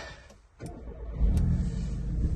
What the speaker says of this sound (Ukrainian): Зараз запустимо двигунчик.